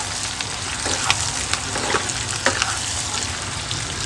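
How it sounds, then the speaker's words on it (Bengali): Chopped capsicum frying in a pan for chicken chilli, a steady close sizzle throughout with a few light scrapes and stirring clicks, no voices. "এটাও আমি একটু ভালো করে ভেজে নেব।"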